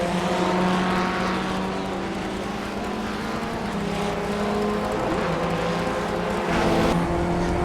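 Onboard a Formula Ford 1600 race car qualifying at Tsukuba Circuit in round five of an FF1600 cup, the engine drones loud and close, its pitch rising and falling through gear changes and corners.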